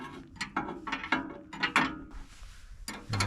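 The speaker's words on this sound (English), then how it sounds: "And then with the 1/2 inch, we're going to just go ahead and tighten this down." Half-inch wrench tightening a bolt on a Eurovan camper LP tank cover, giving a series of close, quick metallic ratcheting clicks and taps in irregular bursts, no voices.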